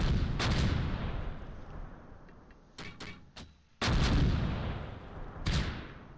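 Artillery fire mission in the World War II strategy game Close Combat, Fontenay–Caen road: a run of heavy, booming shell impacts and blasts, several sharp bursts in close succession then a large loud explosion with rumbling decay.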